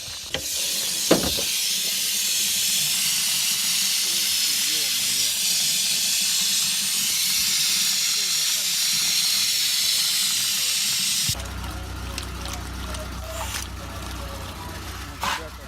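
Steam hisses loudly and continuously from an overheated, boiling car engine for several seconds, a strong broadband rush up close, before cutting off into quieter background rumble.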